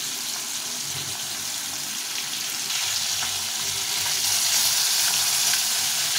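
Pieces of shol fish frying in hot oil in a pan, a steady dense sizzle that swells slightly louder partway through, close and continuous with no talk.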